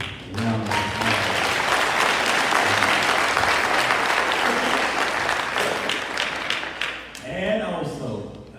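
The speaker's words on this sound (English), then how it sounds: "Let's give her a great big round of applause." A church congregation at a Sunday service breaks into a loud, sustained round of applause lasting several seconds, with voices and cheers mixed in, before the clapping thins out and a voice starts speaking near the end.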